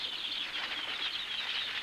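Swifts in a tropical cave give a dense, steady whirring flutter of wingbeats, close and continuous, with faint chirps mixed in.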